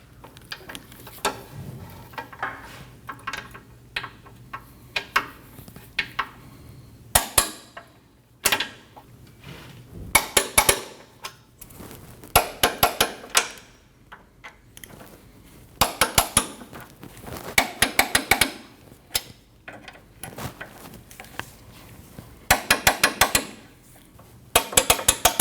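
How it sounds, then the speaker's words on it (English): A torque wrench tightens 10mm bolts on a 2013–2019 Ford Escape during a radiator fan and condenser fan replacement, heard as repeated close bursts of rapid ratcheting clicks separated by short pauses and the odd metallic knock. "You want to torque all 8 of those 10mm bolts at 35 foot-pounds."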